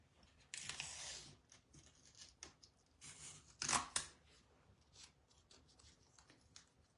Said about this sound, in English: I'm just going to put some tape on my stencil and press it down that way